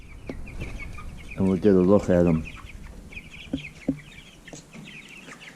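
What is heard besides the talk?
Freedom Ranger and Cornish Cross chickens clucking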